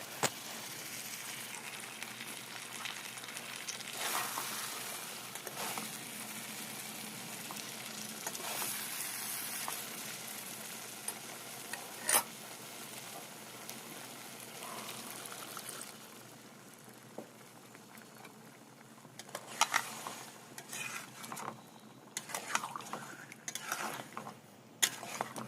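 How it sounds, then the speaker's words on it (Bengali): Fried potatoes being stirred into a tomato chicken masala in a pan, giving a steady low sizzle with scraping stir strokes and a few sharper clinks toward the end, fairly quiet and without talk. "আলুগুলোকে দিয়ে আবার সব ভালো মতো একসাথে নাড়িয়ে নেব।"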